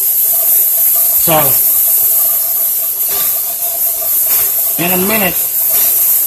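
A pressure cooker with teriyaki drumsticks inside gives off a constant loud steam hiss with no breaks. Speech comes in briefly over it twice.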